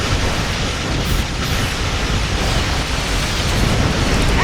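A Dreadnought ship blows apart in the space combat game Star Trek Online, heard as a loud, dense, continuous roaring rumble of explosion noise that fills the whole stretch without letup.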